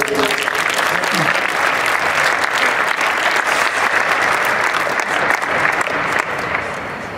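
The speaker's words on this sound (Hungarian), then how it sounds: "kérem szépen egy nagy tapsol üdvözöljük" A Christmas party audience breaks into loud, sustained applause for a head coach, a dense wash of clapping running steadily for several seconds before easing slightly at the end, with faint voices mixed in.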